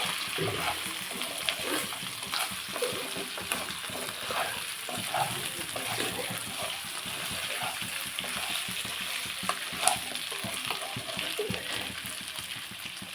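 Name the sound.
chicken fry sizzling while being stirred in a pan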